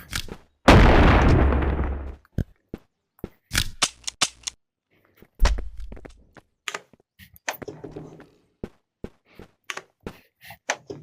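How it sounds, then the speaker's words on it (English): Shotgun blasts in a Minecraft-style video game, heard as sharp loud shots, one long booming burst followed by many quick scattered cracks and thuds at irregular intervals. "Stop while I'm shooting you right now."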